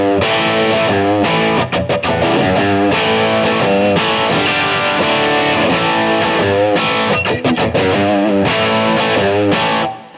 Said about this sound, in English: That was the sound of the humbucker pickup.